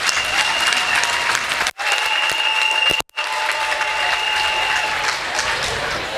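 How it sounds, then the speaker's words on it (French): An audience at a Catholic school teachers' retirement celebration in Thiès applauds M. Mbaye, a dense, steady round of clapping from a large crowd that fills the whole stretch, broken by two brief dropouts, with no voices over it. "Applaudissez pour M. Mbaye vraiment."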